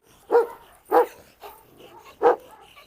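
A Kangal and a Rottweiler fight, with three or four loud, sharp barks at irregular intervals and softer yelps and growls in between, heard close with no talk.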